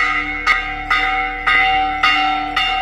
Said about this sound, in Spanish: Están tocando las campanas del pueblo porque hay un ataque.